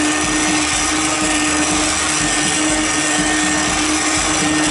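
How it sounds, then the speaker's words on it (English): An immersion blender purees a pot of split pea soup, its motor droning loud and unbroken with a steady whine and churning rumble, no voices over it. "now I'm going to hit it with the immersion blender, and you might hear some noise"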